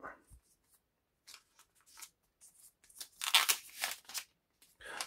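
Cardboard packaging of a Vivo X Fold 5 smartphone box being torn open by hand, a few short ripping and crinkling bursts building to a louder tearing stretch near the end, close and alone.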